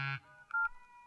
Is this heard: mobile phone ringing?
yes